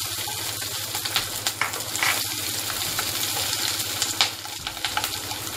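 Onion and bell pepper frying in a tablespoon of oil in a kadhai wok, a steady close sizzle with occasional stirring scrapes and clinks, no voices.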